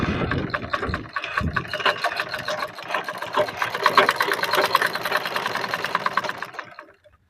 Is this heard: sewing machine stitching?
yes